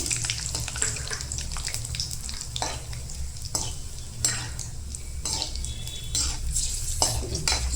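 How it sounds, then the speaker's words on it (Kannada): Raisins tossed in with golden-brown cashews roasting in a pan for bottle gourd halwa give a steady, close sizzle, with repeated scraping and stirring clatter from the pan throughout. "ಇದಕ್ಕೆ ನಾನು ದ್ರಾಕ್ಷಿ ಏನು ತೆಗೆದಿಟ್ಕೊಂಡಿದ್ದೆ ದ್ರಾಕ್ಷಿನ ಆ್ಯಡ್ ಮಾಡ್ತಾಯಿದ್ದೀನಿ."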